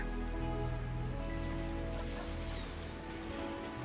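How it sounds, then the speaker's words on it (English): Rain pours steadily in the colony game Rimworld, a dense, even hiss of drops on surfaces under a low, continuous tonal game background. "So the rain's pouring down, but it's not putting anybody off their work."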